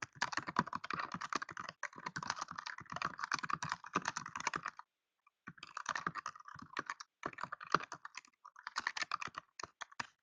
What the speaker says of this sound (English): Just to write a quick note to Sean.